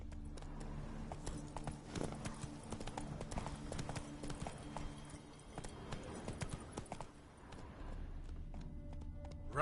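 Hooves of a horse in the Witcher 3 video game beat in a quick, rhythmic gallop on the ground, faint and continuous with game ambience underneath.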